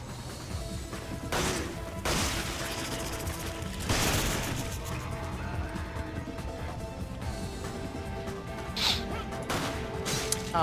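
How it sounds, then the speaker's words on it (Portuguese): Gunfire in the video game Resident Evil 5 Mercenaries, several sharp shots with crashing impacts spaced through the stretch over game ambience and music, loud and close. "Ah, errei o tiro."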